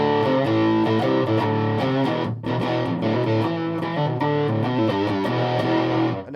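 Heavily distorted electric guitar through a VV Co Afterlife fuzz pedal playing chords and notes, loud and continuous with a brief drop near the middle, alone without any talking.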